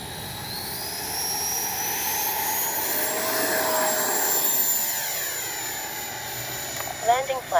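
An FMS Futura 80mm electric ducted-fan RC jet takes off, its loud rising whine surging and then shifting in pitch as it passes, with a few brief bumps near the end.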